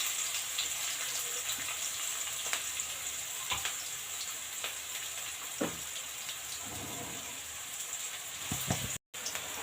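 Finely chopped onions frying with cumin seeds in a pan for a fish roe fry, giving a steady soft sizzle with occasional light clicks and stirs, close and alone.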